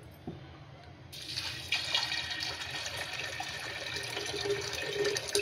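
Water pours steadily into a pot of washed split pea lentils (matar dal) for boiling; after a second of quiet, a continuous splashing stream begins and carries on close by without any talking.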